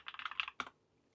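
Rapid clicking of keys on a computer keyboard, a quick burst of about a dozen close taps followed by a final keystroke and then quiet.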